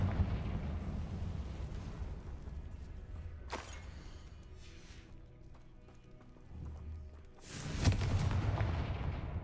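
A Confringo fire blast spell bursts in Hogwarts Legacy, with two sharp explosive blasts a few seconds apart rising over a rumbling, busy game background.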